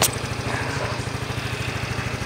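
A Yamaha Mio i 125 scooter engine idles steadily after a rocker arm replacement, its close, even low putter pulsing in a fast regular rhythm with no other sounds.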